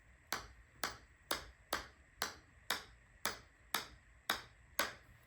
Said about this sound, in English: This is what the Pro V1 sounds like.